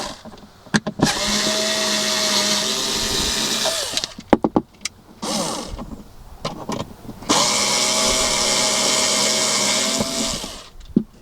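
A power driver whirs in several long runs as four screws come out of a car console mounting plate, with short clicks and handling noises between the bursts.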